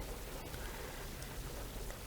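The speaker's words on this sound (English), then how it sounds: "this rain that we're seeing right now should pass on by" Steady rain falls outdoors at an event gathering, a soft, even hiss with a few faint taps, heard alone without any voices.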